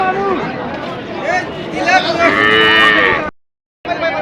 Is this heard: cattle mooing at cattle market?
yes